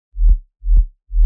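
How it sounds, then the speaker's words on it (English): Two deep, clean sub-bass synth notes, each a smooth low swell with a soft attack and decay, followed by the onset of a third; no talking. "So if you take off the distortion, it sounds like this."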